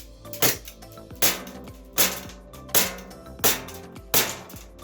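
Airsoft Glock 17 Gen 5 gas pistol (VFC/Umarex) firing 0.20 g BBs during a chronograph test, six sharp, loud, evenly spaced shots about three quarters of a second apart, each with a short metallic ring, nothing else audible.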